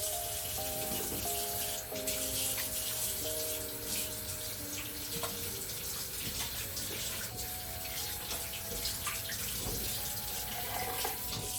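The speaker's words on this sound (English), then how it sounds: "And now I'm going to wash my hands" Hands are washed under a running kitchen tap while baking a cake: a steady close splash and rush of water with small shifts as the hands move in the stream, no talk.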